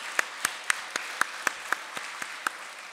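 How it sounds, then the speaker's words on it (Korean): A church congregation claps together in praise during an Easter Sunday worship service, about ten sharp, evenly spaced claps in a steady unison rhythm, moderately loud with no talking. "우리 다 같이 힘차게 하나님 앞에 영광의 박수를 올려드리겠습니다"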